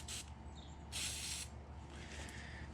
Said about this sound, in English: we'll just spray some silicone on here for the connection